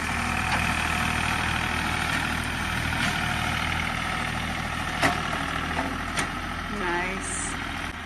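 A farm tractor idles and runs steadily while spreading dirt, a continuous low engine rumble with a few brief clanks and higher tones on top.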